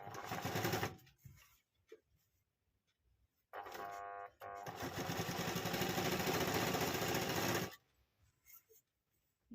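A sewing machine stitches an old saree into a bedsheet: a brief motor whirr, a pause, then a longer steady run of rapid needle chatter before stopping, close and without talk.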